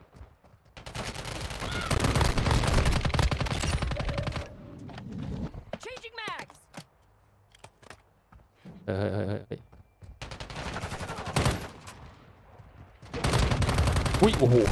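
Gunfire and explosions from the mobile shooter Call of Duty: Warzone Mobile, with dense bursts of automatic fire and loud blasts broken by short quieter gaps. A voice talks over parts of it.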